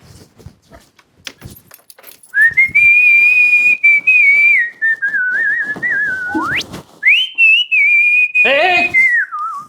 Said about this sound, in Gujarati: સીટી વગાડવા બેઠું છું